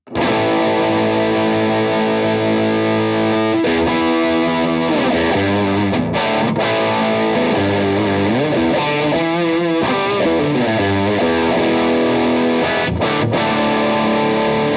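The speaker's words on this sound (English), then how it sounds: "You can hear there's a truckload of gain there." Electric guitar plays through a mini amp with very high gain, thick continuous distorted chords ringing loudly throughout with brief pauses between phrases.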